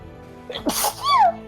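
A single close, loud sneeze bursts out during a tabletop game session, with a short inhale before the sharp explosive release and a brief high squeaky tail.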